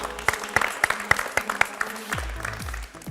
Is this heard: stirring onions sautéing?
no